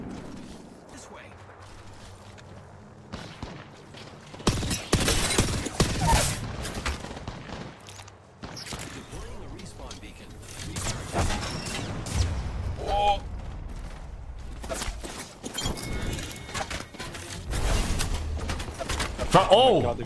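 Video game gunfire crackles in dense, repeated bursts and volleys across the scene, mixed with mechanical clatter, while players talk excitedly over it.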